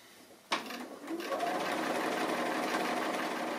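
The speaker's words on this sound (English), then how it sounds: "So I'm going to continue on now and stitch around." An electric sewing machine stitches around an appliqué, starting with a sharp click and then running as a steady, continuous whirring hum at moderate volume, close by.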